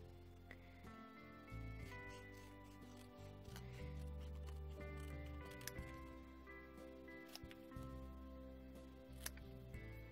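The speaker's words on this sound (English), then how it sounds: "I'm just going to take my scissors and turn this into a banner" Scissors cut card paper into a banner for a handmade Christmas card, making soft, quiet snips and crisp ticks under faint background music.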